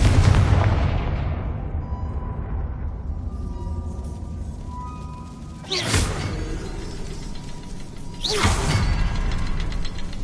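Confringo fire spell in Hogwarts Legacy, a loud booming explosion with a long rumbling decay, followed a few seconds later by two more sharp blasts with crackling tails.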